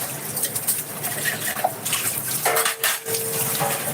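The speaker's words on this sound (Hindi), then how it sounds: "बर्तन धो रही हूँ" Dishes, pots and utensils being washed by hand at home, with continuous clinking, clattering and scraping of metalware under running water. A brief ringing clang comes partway through.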